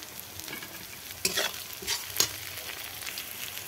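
Chopped tomato stirred into frying onion with whole cumin and dried chilli in a pan, a steady sizzle with a few sharp scraping stirs, close and alone.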